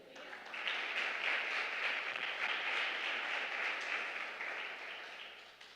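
Church congregation applauding, a dense, even wash of clapping that swells in after a moment and holds steady for several seconds at a moderate distance.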